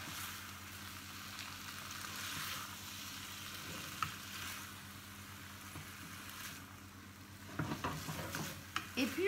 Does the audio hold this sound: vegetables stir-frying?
yes